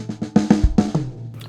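A quick gospel drum fill: a run of sharp hits moving between kick, snare and first tom, about eight strikes in just over a second, close and punchy.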